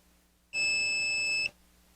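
A KAiWEETS KM200s digital multimeter in continuity mode gives one steady electronic beep of about a second, clear and close against a quiet background.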